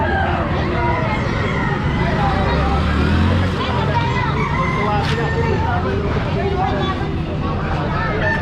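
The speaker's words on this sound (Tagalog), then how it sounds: "Yung mga alaalaga nila manok dito." Chickens kept by residents cluck as a rooster crows among a busy hubbub of voices and passing traffic, the birds partly buried under the crowd noise.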